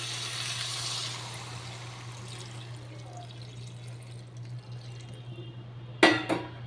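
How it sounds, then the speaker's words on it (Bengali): Water is poured into a cooking pan after spices are fried with potato and raw banana, giving a soft, faint pour over a low steady hum, then a sharp clatter near the end. "আমি এবার জল দিয়ে দিলাম"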